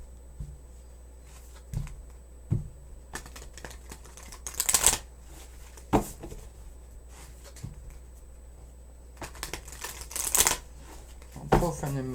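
Moonology oracle cards being shuffled by hand, several short riffling bursts and soft card flicks spaced apart, close and quiet, with a person talking between them.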